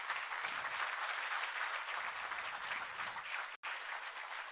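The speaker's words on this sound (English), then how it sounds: "So please give a big round of applause" Sustained applause from a conference audience at a national chemistry conference, steady dense clapping filling the room, with a brief sharp cut near the end.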